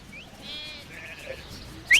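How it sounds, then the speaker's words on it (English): A sheep being rounded up by herding dogs bleats in a wavering cry some distance off, then a sharp, short herding whistle cuts in at the end. "You gotta be quick when there's that many sheep to round up."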